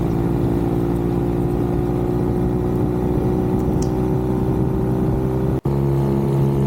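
Two motorcycles' engines purr along steadily at cruising speed on an open country road, a continuous even drone with strong low harmonics and no talk.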